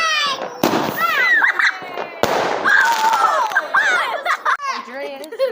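Catherine wheel firework on bonfire night, sharp pops and bangs among shouting children and excited adults nearby, crackling bursts heard under loud overlapping voices.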